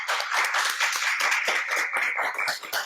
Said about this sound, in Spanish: quiero pedirles un aplauso para ella